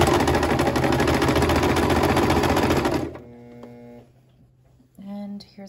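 A sewing machine stitches down a fabric seam on an envelope dress, running loud and steady for about three seconds, then stopping; brief quieter machine sounds follow.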